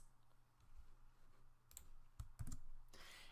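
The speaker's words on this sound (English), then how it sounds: "Hold down Shift and click S." A few sharp clicks and taps from a computer keyboard as a Shift+S shortcut is pressed in 3D animation software, brief and close against a faint quiet background.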